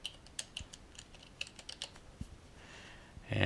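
An action name is typed on a computer keyboard in Photoshop CS3: a quick run of light, separate key taps, followed by a louder shuffle at the end.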